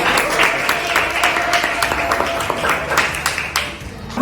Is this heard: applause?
yes